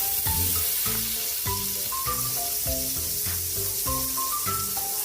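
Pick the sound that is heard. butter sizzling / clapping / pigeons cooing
butter sizzling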